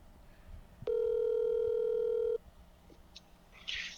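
A single steady telephone call-connecting tone rings out loud and alone for about a second and a half, then cuts off, leaving faint background noise.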